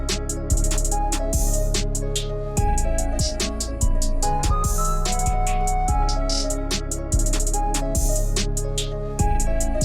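An unmixed hip hop beat plays back with raw, unbalanced levels: punchy kicks and a bass line thump under a steady repeating pattern of crisp hi-hats and snares, loud and continuous with no voices.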